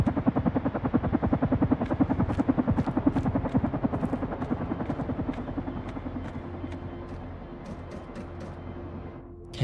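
A rescue helicopter in the video game Carrion thumps with fast, steady rotor beats and an engine drone, loud at first and gradually fading before cutting off abruptly.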